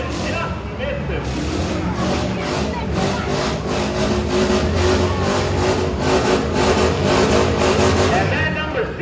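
Demolition derby cars rev and drive around an arena, with engines roaring steadily and loudly throughout, under an announcer's voice over a crowd-filled ambience.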